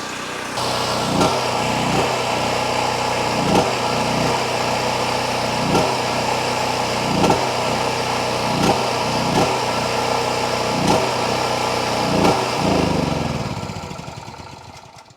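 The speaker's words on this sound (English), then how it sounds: "I've had that generator for years and years and years, and it's always been so stinking reliable" A long-owned, loud portable generator engine runs steadily up close with a regular pulsing beat, then winds down and dies away in the final seconds.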